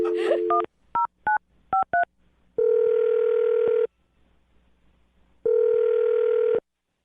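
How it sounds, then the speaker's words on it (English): A landline phone is dialed: a quick run of distinct touch-tone beeps, then two long ringback tones separated by a pause, clear and close with no talking. "I'm gonna dial her number."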